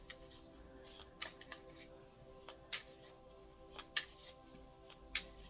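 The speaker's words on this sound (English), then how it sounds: "Just some light shuffling here." Tarot cards being shuffled lightly, with soft, quiet riffles and scattered small ticks and flicks of card edges against a faint, steady background hum.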